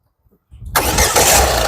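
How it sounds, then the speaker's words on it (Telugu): A Ford EcoSport Titanium 2019 diesel engine fires on a single crank after a brief starter whir, then settles into a loud, steady close-up idle. "సింగిల్ సెల్ఫ్లో బండి స్టార్ట్ అవుతుంది, ఎటువంటి స్టార్టింగ్ ట్రబుల్ అనేది లేదు."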